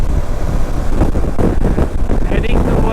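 Heavy crosswind buffeting a rider on a KTM 390 motorcycle on an open road, a loud continuous rumbling roar with gusty surges, and speech is heard over it.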